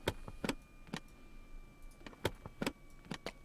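Door of a Just Flight Duchess Model 76 twin-prop plane in X-Plane 11 opening after engine shutdown: a run of sharp mechanical clicks and latch clacks, close and fairly quiet, spaced irregularly over a few seconds.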